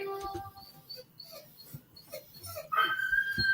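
Dogs whimper and whine softly in short, scattered bursts, with a higher drawn-out whine near the end, close by and fairly faint.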